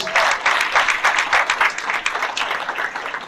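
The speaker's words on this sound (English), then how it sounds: "if we could all give a round of applause of appreciation to all of our elected officials" Applause from a candidate forum audience showing appreciation for elected officials, dense, steady clapping from a crowd filling the room, loud and close with no talk over it.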